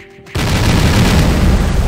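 A burst of grenade explosions in a flash video game, a loud booming blast after a brief quiet start, sustained rumble filling the rest.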